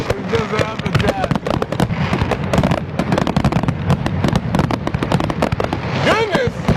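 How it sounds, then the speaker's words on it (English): Pricey birthday fireworks burst in rapid, loud succession overhead, a nearly continuous barrage of cracks and booms, while people talk and exclaim underneath. "These ain't the cheap fireworks either, I can tell."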